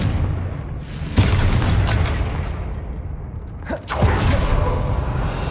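Two sharp blasts of an explosive spell in a fantasy action game, one near the start and another near the end, each a sudden burst over a steady rumbling backdrop.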